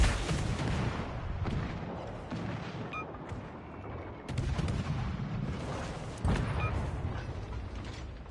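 Warship missile and gun fire in World of Warships: Legends comes as several loud, sharp bursts followed by rumbling decay, set over mechanical creaks and whirs and spaced a few seconds apart, with no speech.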